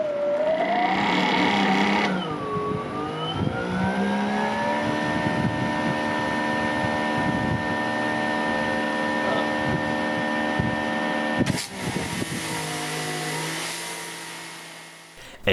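A Greenworks GPW2700 brushless pressure washer motor hums loudly and steadily nearby, its pitch sweeping up as it spins, holding a sustained whine, then cutting out with a click near the end and winding down.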